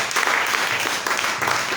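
A congregation applauding in a chapel: dense, continuous clapping from many hands filling the room, loud and sustained with faint voices mixed in.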